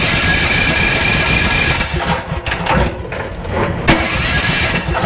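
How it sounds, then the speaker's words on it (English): A nearby generator engine runs loud and steady, then its drone dips and sputters unevenly partway through, with no talking. "I'm going to start the generator real quick."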